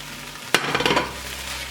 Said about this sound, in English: And now I'm gonna add to those some sliced mushrooms.